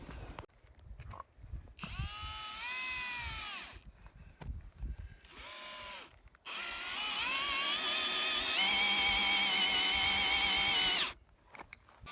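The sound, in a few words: power drill drilling wood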